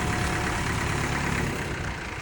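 A tractor engine runs steadily as the stuck tractor is pulled free, a loud, close, continuous diesel rumble with no talking.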